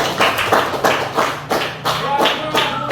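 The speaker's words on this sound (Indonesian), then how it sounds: "Tepuk tangan untuk kelompok 1 dulu." A classroom group claps for the first team in a short, rhythmic burst, with a regular pattern of sharp, close hand claps and no voices.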